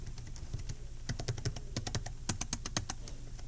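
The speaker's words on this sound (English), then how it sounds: "let me just test this keyboard out for you real quick." Keys tapped on an ASUS TUF Gaming F17 laptop keyboard, a quick irregular burst of close, crisp clicks with a few harder strokes near the end.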